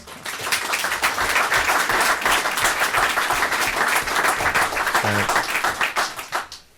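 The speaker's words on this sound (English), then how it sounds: "I think they're all entitled to a round of applause" A room of people at a town selectboard meeting claps together, dense and fairly loud for about six seconds before tapering off, with a brief murmur of talk.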